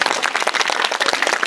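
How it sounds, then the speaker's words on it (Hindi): Dense audience applause at a school cultural program, a brief burst of many hands clapping rapidly and irregularly, loud and close, with no voices over it. "चलो, इसके लिए एक तालियां हो जाए"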